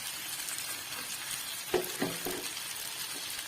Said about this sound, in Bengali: দিয়ে দিলাম পাস্তাটা, দিয়ে আরেকটু নাড়াচাড়া করে নেবো।